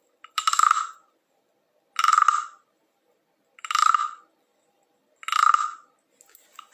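A wooden frog-style instrument imitating a frog's croak, played during storytelling for a baby: four separate raspy croaking bursts at a steady rhythm, roughly a second and a half apart, clear and close, with no talking.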